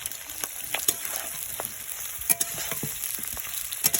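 Chicken pieces and chopped onions fry in a pan for fried rice, giving a steady close sizzle with scattered crackles and a few stirring knocks.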